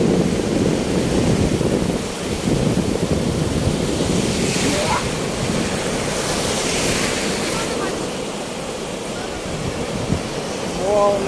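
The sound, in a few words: sea waves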